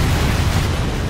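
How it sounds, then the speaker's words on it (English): A nuclear detonation in Halo: Reach produces a short, dense roar of explosive noise that fills the clip at high volume with no pause. "How about a nuke going off?"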